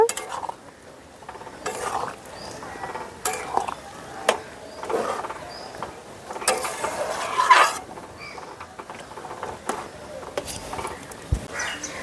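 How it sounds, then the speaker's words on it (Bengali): Oil-free chickpea curry with kasuri methi and coriander leaves stirred in a pot, a utensil clinking and scraping against the metal in irregular bursts, fairly close, with no talk. "এখন নাড়াচাড়া করে মিশিয়ে নেব।"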